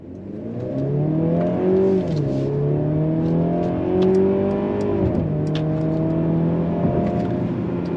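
A 2022 Mercedes-Benz C300 accelerates hard on throttle, engine note climbing through two upshifts with steady loud drone heard from inside the car, no talk.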